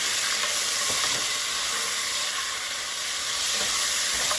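Oxtail pieces sear in smoking-hot, frothy frying oil for Caribbean braised oxtail, giving a loud, steady, dense sizzle that fills the whole clip with faint scraping stirs underneath.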